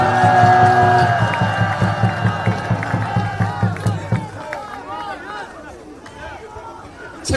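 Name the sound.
audience applause and cheering at a political rally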